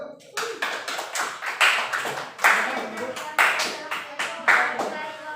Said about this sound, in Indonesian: Beri aplaus untuk kelompok 1.